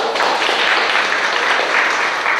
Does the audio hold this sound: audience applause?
yes